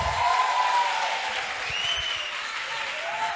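Applause at the end of an online class, a continuous, even patter of clapping that sounds slightly distant and thin, with faint electronic tones drifting through.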